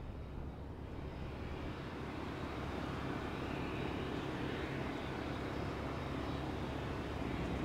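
A general aviation airplane takes off at Gillespie Field in San Diego, its engine a steady, broad roar that holds at an even, fairly loud level for the whole stretch, with no voices over it.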